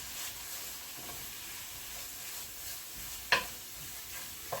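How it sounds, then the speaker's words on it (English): Greens cooking down in a pan with onions and chorizo give off a soft, steady sizzle and hiss, with a few faint stirring scrapes and one brief sharper clink. "want to cook the greens in this so it gets the flavor from the onions and the chorizo into the greens"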